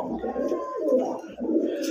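Pigeons of a prized breed coo in low, throaty bursts close by, a steady murmuring run broken by two short dips.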